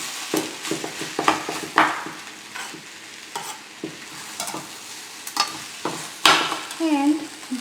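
Curry powder is stirred into samosa filling as it fries in a pan: a utensil scrapes and taps repeatedly over a low steady sizzle, close up, with no one talking.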